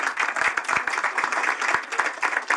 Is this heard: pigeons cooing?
no